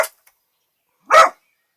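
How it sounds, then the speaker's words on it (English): A dog barks in a short burst at the start, then a single clear bark about a second later, close by in a quiet room. "Excuse the dogs."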